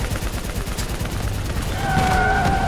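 Gunfire in the Call of Duty Black Ops III video game, a steady stream of rapid shots at moderate level over a rumbling battle bed, with faint talk mixed in.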